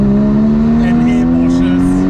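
A Porsche Spider's naturally aspirated 3.8-litre engine hums loud and steady from inside the car, its pitch climbing slowly, with voices talking over it.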